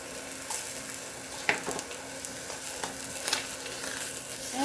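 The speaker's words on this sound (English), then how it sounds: "Ain't nothing like a fried bologna" Slices of bologna fry in a frying pan, a constant close sizzle broken by sharp pops and occasional utensil scrapes and stirring clicks.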